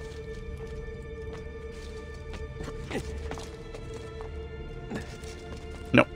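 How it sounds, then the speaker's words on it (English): Horses in Assassin's Creed II, a faint steady clip-clop of hooves below a low ambient hum, with a single sharp knock near the end. "that's why I can hear horses, because there are horses down here"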